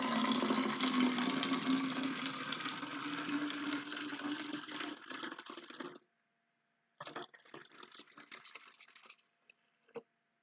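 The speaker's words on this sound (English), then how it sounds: "so I put my water in" Warm water poured from a tap into a container for making slime, a steady gushing fill for several seconds, then a pause and a shorter splashing pour with a final drip, close and alone.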